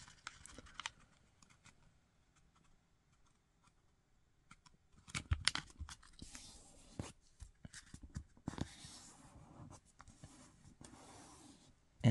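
Origami paper, colored side up, being folded into a triangle for a bird base, heard as soft close rustles, rubs and crisp creasing strokes, with a few louder crinkles midway and no speech.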